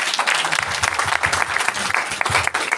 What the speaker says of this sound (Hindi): के लिए कुछ जोरदार तालियां।